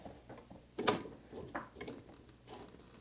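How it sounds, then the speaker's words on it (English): A wheelchair axle is pulled out of its mount, with a sharp metallic clack followed by softer scraping and sliding rattles, close and alone. "Take your axle out."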